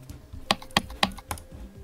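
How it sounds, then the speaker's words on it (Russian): Several crisp computer keyboard clicks, about four evenly spaced sharp taps, close and clear during Geometry Dash play, with faint background hum. "клики слышно, плюс 638. Вот сейчас слышно."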